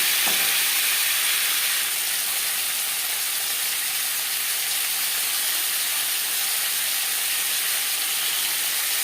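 Potatoes frying in hot oil with panch phoron spices, a dense, continuous sizzle and hiss close by, with a brief clink near the start and no talking.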